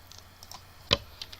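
Typing a terminal command on a Linux computer keyboard, a few soft scattered key taps with one sharper, louder keystroke near the middle, quiet and close.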